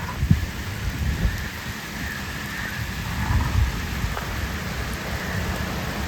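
Steady heavy rain pours outdoors over muddy ground, with faint low rumbles of thunder rolling beneath it and no voices.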